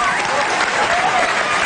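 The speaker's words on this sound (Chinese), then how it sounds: "掌声鼓励" Audience applause at a studio variety show: a short, dense burst of clapping from a crowd, loud and steady throughout.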